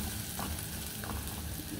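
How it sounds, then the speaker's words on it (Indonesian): Garlic, shallots and onion sauté in a hot pan for a beef and vegetable soup, giving a steady, close sizzle with faint stirring and no voices. "Biar bawang putih, bawang merahnya lebih ditumis,"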